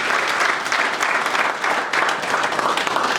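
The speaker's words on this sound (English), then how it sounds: "Round of applause for the Honorable Minister of Interior, Honorable Seyka Sonko" Loud, sustained applause from a crowd at an annual general meeting greets the Minister of Interior, continuous and steady for about three seconds with slight swells, no voice above it.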